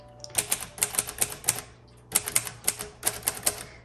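A tan crinkle 1957 Royal Quiet Deluxe typewriter types close up in two bursts of crisp, rapid key strikes with a short pause between them. No one speaks.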